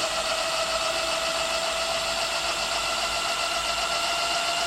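Amyet electric bike hub motor under gradually increasing throttle, a steady close whine with a sustained tonal hum and faint mechanical vibration, no voices.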